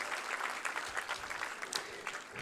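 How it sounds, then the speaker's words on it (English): A school audience applauds students at an award ceremony, dense steady clapping from many hands at moderate distance, fairly faint and continuous for the whole stretch. "Let's give a big round of applause to Dun A."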